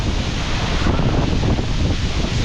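Strong wind at Malatan-og Falls in Negros Occidental, Philippines, buffets the microphone in a loud, constant roar, gusting slightly but never letting up.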